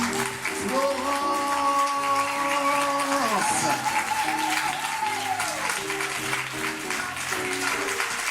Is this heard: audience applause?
yes